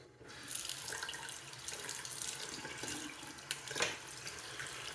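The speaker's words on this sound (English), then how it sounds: "I'm just gonna rinse off my face here" Tap water runs steadily into a sink while a man rinses his face after shaving, a close continuous splashing with small bursts as hands scoop water, no talking.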